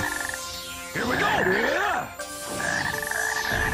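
Frogs croak in the video game Sonic Heroes, with warbling electronic croaks arriving in two bursts between steady tonal game sounds and over a voice chatting.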